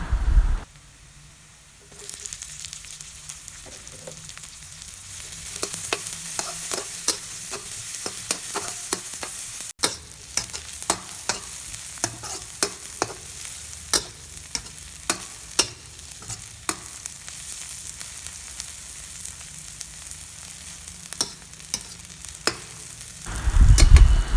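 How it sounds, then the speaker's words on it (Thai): A pan sizzles steadily while a spatula scrapes and taps in irregular bursts as garlic and shallots are stir-fried, close and moderately loud, with no talking. "ผัดกระเทียมให้หอมค่ะ จากนั้นเราก็ใส่หอมแดงลงไปเลยค่ะ"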